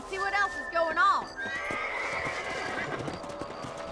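A horse whinnies loudly twice up close in Red Dead Redemption, followed by steady clip-clopping hooves and faint background voices.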